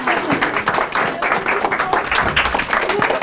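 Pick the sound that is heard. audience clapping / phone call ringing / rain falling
audience clapping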